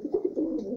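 Pigeons in a loft coo in a low, soft, continuous murmur, a brief burst of gentle throaty calls close by.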